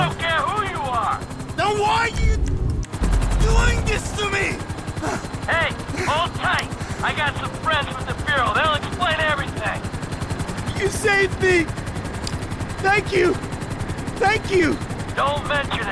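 Helicopter rotors thrum continuously during a landing in GTA 5 while rapid bursts of gunfire crackle throughout, with a lively voice talking over the game sounds.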